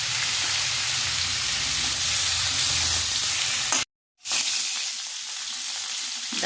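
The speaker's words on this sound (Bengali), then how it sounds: "ডাঁটা আলুটা সাঁতলানো হয়ে গেছে" Potato and vegetable stalks frying in oil with turmeric for a Bengali fish dish, a close, steady sizzle with faint stirring, broken by a brief silent gap before the hissing resumes slightly quieter.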